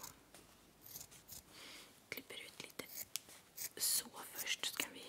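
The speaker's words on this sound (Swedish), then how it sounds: "Vi ser om den här saxen är bra till detta." Scissors snip through paper during a quiet owl craft, with close, crisp irregular cuts building in pace, heard under soft whispered Swedish speech.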